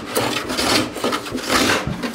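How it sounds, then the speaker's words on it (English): A hand plane is pushed along the wooden rail of a handmade stand-up paddleboard, giving close, rasping strokes of wood being shaved in a few quick back-and-forth passes. "We're just running the heel of our plane on the bottom here and running that along this top"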